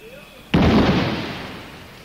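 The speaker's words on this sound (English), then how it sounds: "That was a controlled explosion, a grenade thrown at an Indian security post which didn't detonate." A grenade at a security post in Srinagar, Kashmir, is set off in a controlled explosion: one sudden heavy boom from quiet, followed by a long rumbling decay that fades over more than a second.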